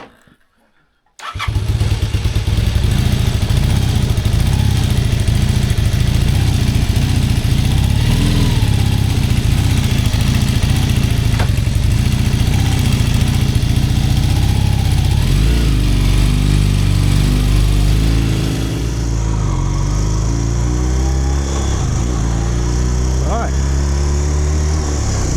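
A motorcycle engine starts abruptly after a short silence and keeps running loud and close at a steady rumbling idle, with slight revving shifts and a voice faintly under it near the end.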